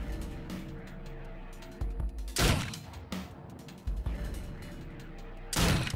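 Pistol gunshots in Dead State, a few sharp, loud cracks spaced apart amid quieter game mechanisms and background rumble.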